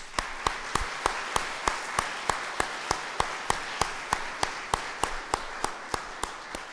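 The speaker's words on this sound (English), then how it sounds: "Give our young children, the elementary school children, another round of applause." Rhythmic applause for elementary school children after a peace poetry contest reading, sharp regular claps about three per second, steady and fairly even, with no talking.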